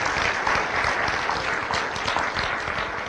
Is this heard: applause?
yes